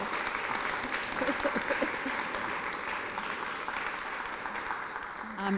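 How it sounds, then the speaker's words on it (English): Audience applause at an art gallery talk, a steady even wash of clapping from a seated crowd lasting several seconds, fairly distant and unbroken, with a few faint voices underneath. "can we give a round of applause to"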